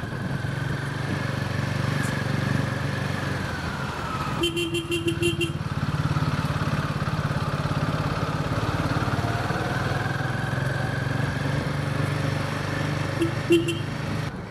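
A motorcycle engine runs steadily in slow, congested Delhi traffic, a constant low drone close by, with short horn beeps cutting in and other vehicles around.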